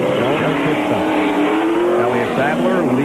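NASCAR Winston Cup stock cars accelerate off pit road at Michigan Speedway, a loud continuous roar of several engines rising in pitch, with an announcer talking over it.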